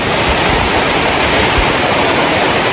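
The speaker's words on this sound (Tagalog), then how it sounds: "Grabing ulan guys." Steady, dense roar of heavy, storm-like morning rain pouring down in the rural Philippine countryside, loud and continuous with no breaks.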